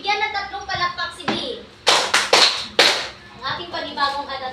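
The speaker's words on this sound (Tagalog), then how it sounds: "Bigyan ng 3 palakpak" A classroom of students gives three quick hand claps for a classmate, sharp bursts close together amid teacher and children's talk.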